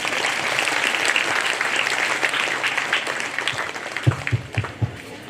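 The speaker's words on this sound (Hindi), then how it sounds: "तो इनके लिए हम सभी को गड़गड़ा की ताली बजाएंगे।" A church congregation at a silver jubilee Holy Mass gives the choir a long round of applause, dense clapping that gradually thins into a few scattered, louder individual claps at the end.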